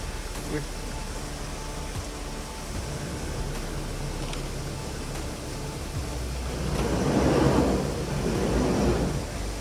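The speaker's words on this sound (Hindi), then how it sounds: "कितना बड़ा झरना है और कहाँ से आ रहा है, ऊपर से आ रहा है" A large mountain waterfall on the road to Sach Pass rushes down from high above, a steady broad roar that swells louder toward the end; no one talks.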